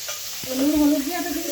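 Potatoes frying over a coal stove give a steady, close sizzle that grows louder midway and keeps crackling to the end, with no talking.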